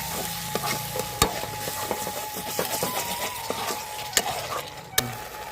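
Mustard-poppy paste whisked with sour yogurt stir-fries in oil for a hilsa fish dish, soft sizzling under repeated sharp spoon scrapes and knocks against the pan, with a faint hum behind.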